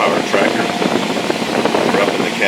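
Steady broadband drone of engine and fans heard from inside the cab of a 391-horsepower John Deere S670 combine harvesting corn with a 670C eight-row corn head, constant and enveloping without break.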